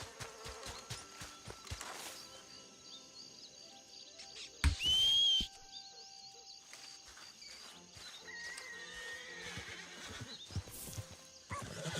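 A horse whinnies in a Red Dead roleplay game, a loud burst of neighing near the middle, with soft clip-clop of hooves and game ambience around it, and no voices.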